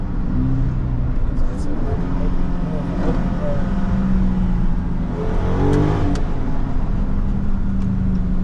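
A Dodge Charger Scat Pack with the 392 V8 drones steadily from inside the cabin while driving, a loud, constant low engine rumble with road noise. People talk over it throughout.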